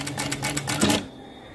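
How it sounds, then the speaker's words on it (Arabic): A sewing machine runs stitching with its foot pedal half pressed, giving a steady rapid patter of needle strokes close by for about a second before stopping. "هنيجي بقى هنا نخيط كده. انا دايسه نص دوسه، شايفين ازاي؟"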